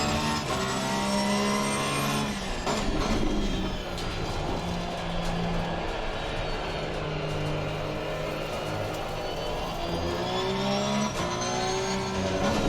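A Porsche 911 GT3R race car engine at Spa in Assetto Corsa Competizione, droning loudly and steadily, its pitch rising and falling through gear changes and throttle lifts, with no talk over it.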